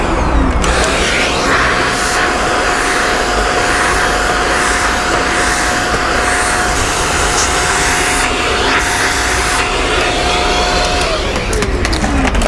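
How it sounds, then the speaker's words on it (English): A vacuum cleaner pulls sand out of car mats and carpet, giving a loud, steady close-up roar with a constant whine that holds without a break for the whole stretch. "use the vacuum just to get the last of this sand contamination out"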